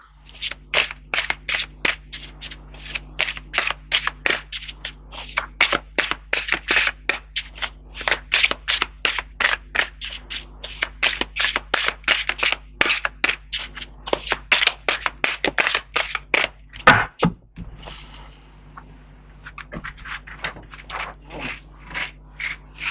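Tarot or oracle cards being handled and shuffled in a long run of rapid, crisp riffling flicks, close and steady, with a brief louder burst of card snaps near the end before the shuffling resumes more sparsely.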